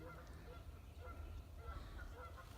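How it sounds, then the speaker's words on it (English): Several geese honk intermittently at moderate distance on a lake over a steady low rumble of wind or water, with repeated short calls spread through the clip. "She's not sure what to think about all the geese."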